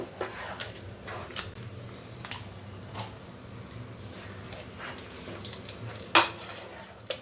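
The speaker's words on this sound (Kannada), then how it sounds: "ಉಪ್ಪಾಕಿ ಎಲ್ಲ ನೀಟಾಗಿ ಕಲಿಸ್ಕೊಳ್ಬೇಕು" Rava idli batter being mixed with salt in a bowl, soft squishy stirring with scattered spoon clinks against the vessel and one sharper knock, close and quiet.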